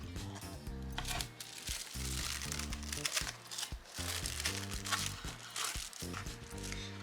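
A LUVBO jewelry package box is opened close up, with crinkling and rustling of the packaging over a continuous background of music or other tonal sound.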